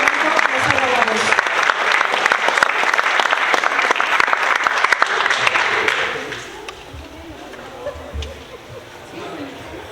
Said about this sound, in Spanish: un fuerte aplauso a la maestra Patricia Rodríguez López